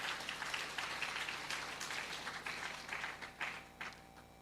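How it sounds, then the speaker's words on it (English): Audience applause at a graduation ceremony, a steady wash of many hands clapping for a few seconds, moderately loud and even, with no talk over it. "Let's give them a round of applause"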